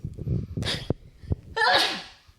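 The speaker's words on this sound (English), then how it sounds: "I'm gonna sneeze." A single sharp, violent human sneeze, preceded by a short breathy intake and voices talking, then bursting out loud and close before trailing off.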